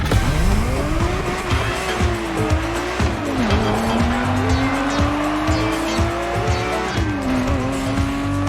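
Ferrari 365 GTB4 Daytona in The Crew Motorfest video game, its engine droning steadily and rising in pitch through gear changes, with loud, continuous tire squeal as it slides through corners.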